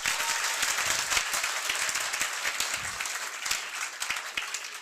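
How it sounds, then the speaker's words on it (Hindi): A roomful of students at a coaching class break into loud, continuous applause, many hands clapping together in a dense, even burst that holds steady throughout. "एक बार जोरदार अपने लिए तालियां बजाइए।"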